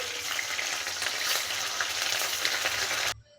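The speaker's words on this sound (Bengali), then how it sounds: "বাকি পনিরটাও একইভাবে ভেজে নিচ্ছি।" Paneer pieces fry in hot oil with a steady, dense sizzle that stays loud and even for about three seconds, then cuts off abruptly near the end. There is no speech.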